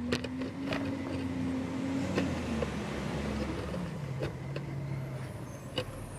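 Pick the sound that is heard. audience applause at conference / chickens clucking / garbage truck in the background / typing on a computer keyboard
garbage truck in the background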